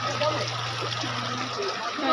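Storm water running toward a house during a cyclone, a continuous close trickle and gush of flowing water with steady low hum, no clear voices.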